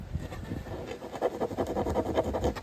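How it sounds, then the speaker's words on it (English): Repeated scratching across a primed and painted melamine kitchen cabinet surface, a series of quick rasping strokes in a steady rhythm, close and fairly soft. "you'll see I'm scratching and really nothing happens"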